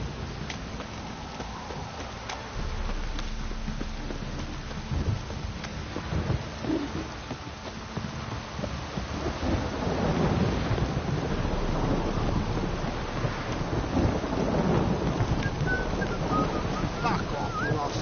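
A heavy downpour in The Witcher 3 makes a dense, steady hiss of rain with low rumbling underneath, swelling louder midway and holding at full strength.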